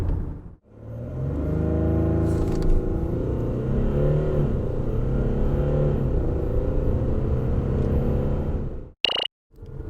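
A 2021 Audi A6 45 TDI quattro diesel launches in an acceleration test, its engine rumbling up through steady rising gear pulls inside the cabin, loud and continuous, then cutting off abruptly near the end.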